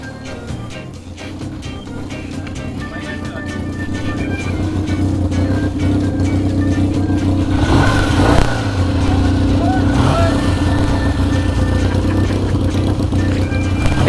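A 1966 Triumph Bonneville motorcycle engine idles steadily after a kick start, a loud, continuous low rumble that holds for the whole stretch, with people talking nearby over it.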